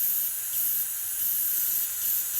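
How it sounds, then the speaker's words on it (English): Air sprays steadily from the bypass line of an airbrush compressor, a continuous close, even hiss with gentle swells in level and no talking. "So I ended up putting a bypass from my in to my out, so I can turn on the bypass. Look at this spray."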